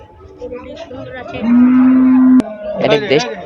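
An Australian Friesian cow at the Gabtoli cattle market gives one loud, sustained moo lasting about a second, close by, amid background market chatter and crowd noise.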